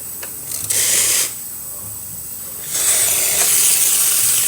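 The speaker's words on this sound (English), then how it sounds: "Nice strong steam." Steam wand on a freshly serviced Vibiemme espresso machine releasing strong steam in two loud hissing bursts, the first about half a second long and the second longer, separated by quieter machine noise.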